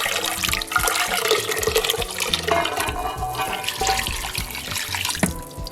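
Hot water being poured into a cooking pot of stewed cow foot and beans, a continuous splashing, gurgling pour close up, alone without talk.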